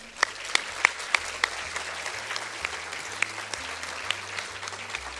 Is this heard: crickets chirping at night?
no